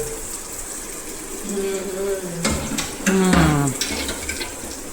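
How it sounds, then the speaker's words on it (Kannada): Maggi noodles fry in a pan, a soft continuous sizzle with occasional stirring clatter, while voices talk over it in the background. "ನೂಡಲ್ಸ್ ಥರನ ಫ್ರೈ ಆಗ್ತಾ ಇದ್ದಾಳೆ"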